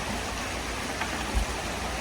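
Flowing stream water at an autumn campsite, a steady close rushing wash of noise throughout with one soft low knock partway through.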